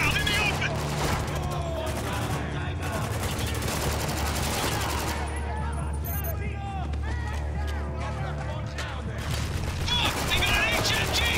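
Heavy machine gun fire in the military shooter Spec Ops: The Line, a continuous rattling barrage with bursts layered over dense battle noise, with voices speaking throughout.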